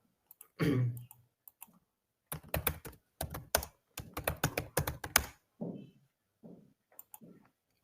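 Quick, crisp keystrokes on a computer keyboard tap out in irregular clusters, close and fairly quiet, with a short pause before a few softer final taps.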